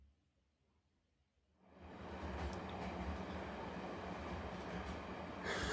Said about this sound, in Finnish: Junassa takaisin